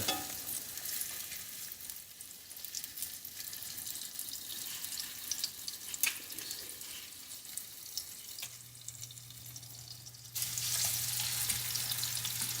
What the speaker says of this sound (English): Put that right in the oil, and we're going to get a good sear on here.